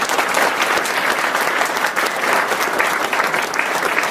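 An audience at a museum panel discussion on Edison and Tesla applauds, a loud, dense, continuous clapping that holds steady for several seconds with no voices over it.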